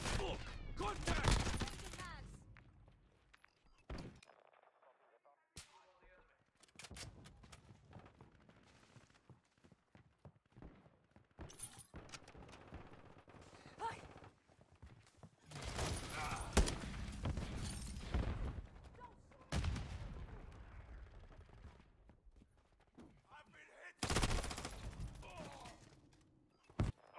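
Video game firefight with bursts of automatic gunfire and single shots in clustered volleys, loud near bursts separated by quieter gaps, with occasional shouted callouts mixed in.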